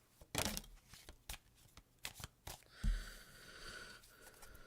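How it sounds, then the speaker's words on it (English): Tarot cards are shuffled close up, with crisp riffling bursts and soft slaps between them, ending in a longer smooth flutter of cards as the deck is mixed. "I'm going to use actually tarot cards, and Eva's using tarot cards right now."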